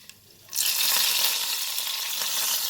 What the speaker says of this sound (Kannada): ಟೊಮೆಟೊ ಫ್ರೈ ಮಾಡಿದ್ನಲ್ಲ, ಅದರಲ್ಲೇ ಇದು ಒಗ್ಗರಣೆ ಕೊಡ್ತಾಯಿದ್ದೀನಿ